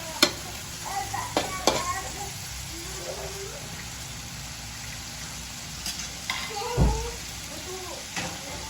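Pork added to a pot of onions and tomatoes for sinigang, giving a soft steady sizzle with occasional spoon clinks and scrapes as it is stirred, with a few faint voices in the background.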